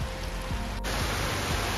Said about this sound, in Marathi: एवढा जोरदार पाऊस सुरू झाला आहे